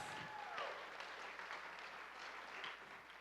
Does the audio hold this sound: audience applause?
yes